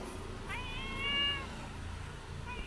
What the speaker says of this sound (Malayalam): എന്ത് പൂച്ചയാണ് നല്ല വില കൂടിയ പൂച്ചയാണ്